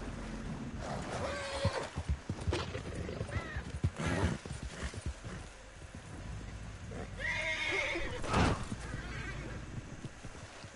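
Horse neighing and whinnying in the video game Red Dead Redemption 2 online free roam, with hoof clip-clops and scattered movement noises, heard fairly quietly with no talking.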